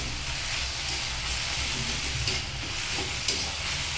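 Panch phoron tempering spices sizzle in hot oil while flat beans cook with ginger, a steady close frying hiss that runs evenly throughout with no talk.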